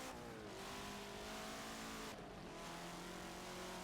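A KTM open-cockpit race car in Forza at Circuit of the Americas accelerates hard, its engine note climbing steadily with a brief dip at a gear change before rising again, loud and continuous throughout.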